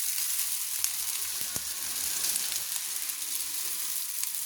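Chicken chow mein noodles frying in a kadai give a steady, close hiss and crackle with an occasional sharper tap, and no talk.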